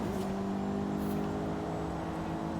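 Toyota GR MR2 engine in Forza Horizon 5, a steady droning hum with layered engine tones holding at a constant pitch, moderately loud and alone.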